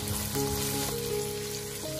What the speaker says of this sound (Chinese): 再把姜片和蒜片加进来，继续翻炒